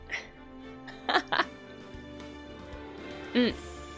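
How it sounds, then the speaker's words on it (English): A person coughs and clears their throat in short bursts, close to the microphone, with pauses of quiet between. "I'm still coughing quite a bit."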